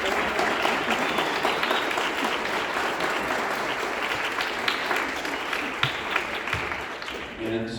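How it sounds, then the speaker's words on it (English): Audience at an All District Honor Band 2024 concert applauds the band's supporters, family and friends, a dense sustained roar of clapping that holds loud throughout before thinning near the end. "band, I'd like you to give a round of applause for all the people that support you, all your family"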